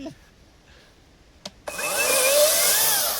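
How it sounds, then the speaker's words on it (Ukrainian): After a few faint knocks and a sharp tap, a GTM or Leader cordless saw starts up loudly and runs continuously, cutting wood with a harsh, steady whine. "ця пила працює на рівні бензопили"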